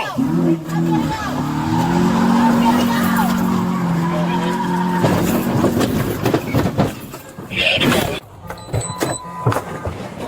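A stolen car evading a police traffic stop skids, tyres squealing loudly for several seconds before a jolt, followed by scuffling noises and shouting voices nearby.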